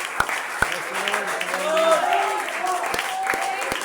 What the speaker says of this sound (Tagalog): palakpak lang